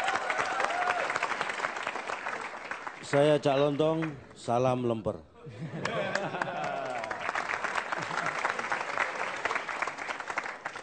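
A stand-up comedy audience applauds loudly for an Indonesian comedian. The dense clapping breaks off while someone speaks a short greeting, then resumes steadily to the end.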